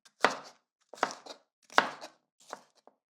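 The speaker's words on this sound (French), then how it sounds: "Je dois couper les légumes." A kitchen knife chops vegetables on a board in four sharp, separate bursts of quick cuts, close and clear with quiet gaps between.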